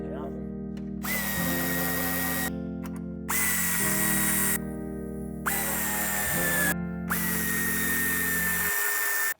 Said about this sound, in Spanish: Con las tuercas que hemos quitado de los refuerzos de la traviesa, sujetaremos los tornillos.